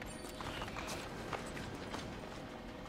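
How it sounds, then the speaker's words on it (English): Horseback riding in Assassin's Creed 3, a dense steady patter of hooves at a gallop under a continuous wash of movement and ambient noise, fairly faint throughout. "let me get on a horseback and let's just ride on out of here"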